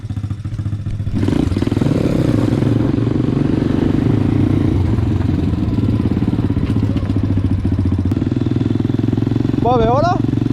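Three small motorcycles, including an RFZ, run together at close range, their engines making a loud, steady, clattering drone. A voice speaks briefly over the engines near the end.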